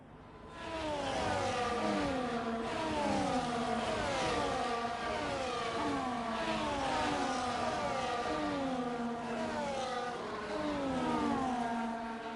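Race cars roll through the formation lap at Abu Dhabi in a sim racing game, several engines overlapping with rising and falling revs and gear-change sweeps, a steady moderate drone without talk.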